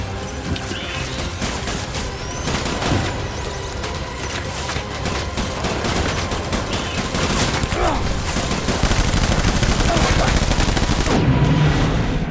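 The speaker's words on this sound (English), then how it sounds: "Open fire!" Sustained gunfire from the video game Death Stranding, a dense continuous fusillade of rapid shots loud and unbroken across the whole stretch, with no clear talk over it.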